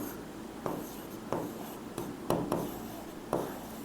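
Marker or chalk strokes on a classroom board, a quiet series of short scratchy writing sounds arriving in irregular bursts, up close with no talking.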